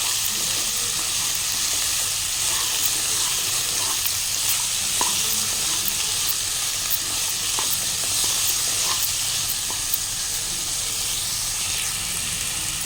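Sliced ivy gourd frying in a kadai with green chillies and no turmeric, stirred steadily: a continuous close sizzle with light scraping clicks from the spoon, no voices.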